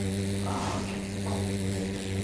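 A bee buzzes inside a train car, a continuous droning hum that holds steady over the whole moment, with a brief soft voice exclamation.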